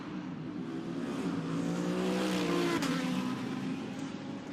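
GT race cars leave the pit lane during qualifying at Imola in the Fanatec GT World Challenge Europe, one engine note swelling loudly as it passes close and then fading away.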